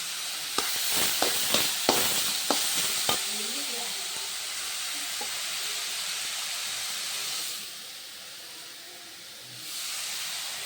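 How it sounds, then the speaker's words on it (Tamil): Oil hisses and sizzles steadily in a pan as ingredients sauté, opening with a few sharp stirring clinks before a continuous frying hiss that briefly softens near the end. "நல்லா எண்ணெயிலே வதக்கிக்கலாம்"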